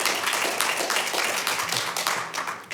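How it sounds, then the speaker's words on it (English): An audience claps at a city council meeting: a dense, continuous patter of many hands in a room, fairly loud and steady, with no voices over it. "both sides got the clap, and so we're done with the clapping"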